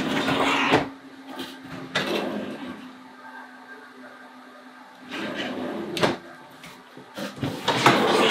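Long storage drawer in a shipping container kitchen sliding open: rolling, rumbling runs of the drawer with clunks and knocks at the start and end, loud and close, separated by a quieter stretch.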